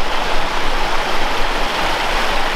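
Creek water rushing steadily in the Idaho backcountry, a loud, close, even broadband wash with no voices.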